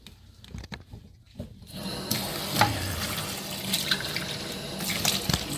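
Water pours steadily into a spray paint can cap used as a small container, a continuous splashing fill that starts after a couple of seconds and holds at moderate loudness, with no talking.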